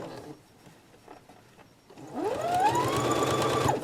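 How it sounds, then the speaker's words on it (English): After a quiet stretch with faint handling noises, a sewing machine starts top stitching a face mask seam, whirring up to a fast, steady mechanical chatter close by. "we're going to top stitch scant 1/8 of an inch"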